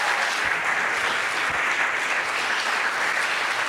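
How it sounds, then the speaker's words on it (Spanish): Dense, steady applause from a church congregation fills the whole stretch, loud and even without a break. "Démosle un aplauso al Espíritu Santo."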